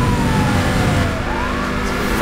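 Police siren wailing in a Need for Speed pursuit race, steady and loud over a continuous car engine roar, with the pitch sliding as the chasing cop car holds close behind.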